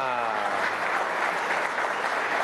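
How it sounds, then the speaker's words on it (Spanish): Applause from a live audience at a televised Venezuelan government program, a dense, steady wash of clapping that holds at full volume from start to finish. "Un aplauso desde Venezuela"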